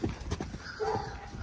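Young horses' hooves clop in a short burst of uneven, fairly faint steps, with a brief whinny-like cry partway through.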